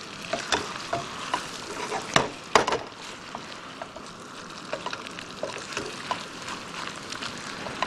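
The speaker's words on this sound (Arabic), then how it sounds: "نقلب الدجاج تبعنا." Chicken frying in a pan, with a steady close sizzle broken by scraping and clunks as the pieces are turned, alone without talk.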